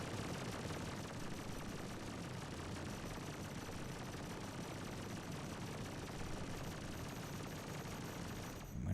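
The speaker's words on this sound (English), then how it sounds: "I'm gonna stop shooting" Sustained automatic gunfire pours continuously onto a ship in the space game Star Citizen, a dense unbroken rattle at steady loudness for the whole stretch with no talk.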